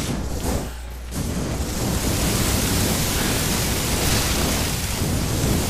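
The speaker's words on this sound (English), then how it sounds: "I can't hear a word you're saying over the sound of the torch." A torch flame roars steadily in Resident Evil 7, a loud, close, continuous hissing rush with a brief dip near one second, no speech over it.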